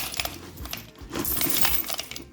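Coins being handled and dropped while sorting common and damaged Argentine coins, a dense run of bright metallic clinks and jingles piling together, close up and fairly steady for a couple of seconds with no talking.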